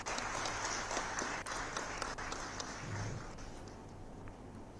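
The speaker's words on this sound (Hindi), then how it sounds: "उनके उद्बोधन के लिए तालियों के साथ स्वागत" Broadband applause from an audience welcoming a cabinet minister at an official appointment-letter distribution event in Uttarakhand, steady and sustained throughout, with a slight fade toward the end.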